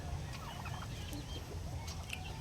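Small chickens, young of a small breed with feathered feet, cluck and chirp in short, scattered bursts over a low background hum, fairly faint and without any talking.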